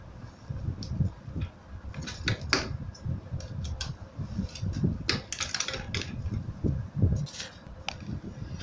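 Sewing machine stitching folded handbag straps, a continuous close mechanical whir with fast rhythmic ticking and occasional sharper clicks, with no voices.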